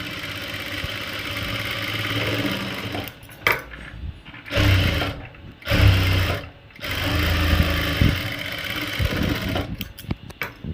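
A sewing machine stitches a lined blouse, its motor whirring in steady runs that stop and restart several times, close and fairly loud, with only brief quiet pauses between bursts.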